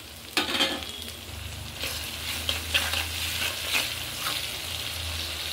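Chopped small tomatoes tip into a hot pan of frying chicken with salt and turmeric, giving a sharp burst of sizzling that settles into steady crackling frying with a few stirring scrapes, close and fairly loud, no voices.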